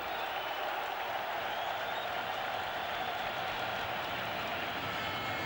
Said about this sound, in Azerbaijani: Azarkeşlərimizə də alqış düşür.